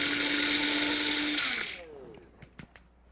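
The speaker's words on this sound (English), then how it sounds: "the TriBest, if you don't know about the personal blender" A TriBest personal blender powders ingredients in a home kitchen, a loud steady high-pitched whir that winds down and stops, followed by a few faint clicks and taps.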